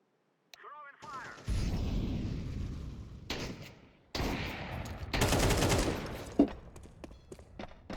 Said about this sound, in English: Right as that first shot goes off, that first boosh.